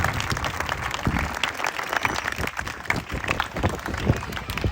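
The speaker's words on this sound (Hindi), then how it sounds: "इनके लिए एक बार आप लोग ताली बजाइए।" Audience applause at a Teachers' Day event in India, a dense steady wash of many hands clapping, fairly loud and continuous throughout with no speech over it.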